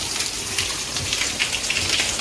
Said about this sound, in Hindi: ऊपर से पानी गिर रहा है सारा